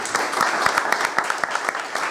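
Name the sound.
audience clapping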